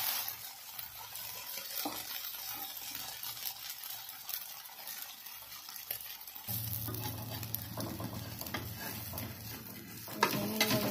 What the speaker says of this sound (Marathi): आता थोडंसं तेल सोडूया परत दुसऱ्या बाजूने।